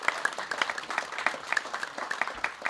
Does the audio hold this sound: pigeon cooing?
no